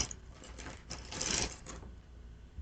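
A crayon is twisted in a small hand sharpener nearby, giving a quiet, rapid series of scraping, grinding bursts over roughly two seconds, with no talking.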